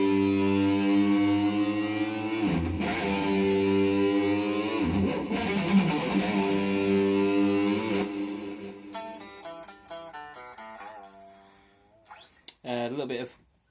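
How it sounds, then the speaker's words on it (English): Electric guitar playing a piece with sustained clean-toned notes bent quickly up, released, then slowly bent back up, followed by a choppier run of short picked notes and a brief final phrase, close and alone. "we're going to do a quick bend, release, and then slow bend back up"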